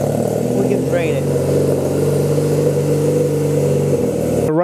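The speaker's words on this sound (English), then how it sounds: "start the engine and let it idle for a bit, let it warm up for a bit" A Honda Rebel 250 motorcycle engine idling steadily and close by, a continuous low hum with a faint bump partway through and no talk over it.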